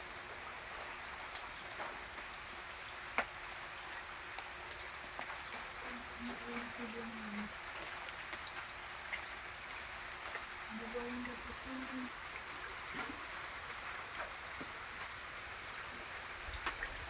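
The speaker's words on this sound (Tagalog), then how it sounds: "Ang ulan." Rain falling on a roof, a steady patter with scattered drops and occasional louder taps, with faint voices and tones underneath.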